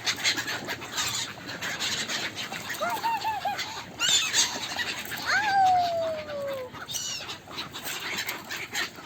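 Seagull calls ring out over a busy outdoor shore backdrop, several squealing, downward-sliding cries, loudest near the middle, with a steady wash of background noise.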